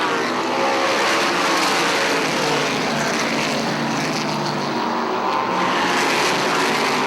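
Dirt modified race cars roaring around Airborne Speedway in Plattsburgh, New York, a loud continuous engine drone from a pack of cars held for the whole stretch, with no clear talk.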